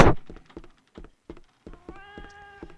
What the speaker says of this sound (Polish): Niech coś zrobi coś z tym kotem, błagam was.